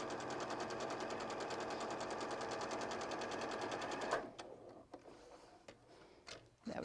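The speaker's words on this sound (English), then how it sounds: "I'm going to just flip it around and sew down the other line as well" A sewing machine stitches a seam line in a quick, steady, close-up chatter for about four seconds, then stops, leaving quiet handling clicks and rustles of fabric.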